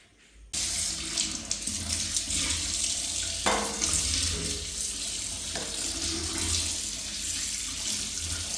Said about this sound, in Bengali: চলো এখন আমি ইলিশ মাছগুলো ধুয়ে নিই